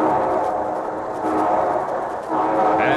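A steam-era train sound effect for a radio broadcast rolls along steadily with a chugging, rumbling texture and a brief brighter swell near the end, heard alone without talk.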